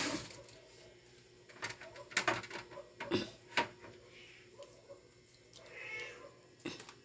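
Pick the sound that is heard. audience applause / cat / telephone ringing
cat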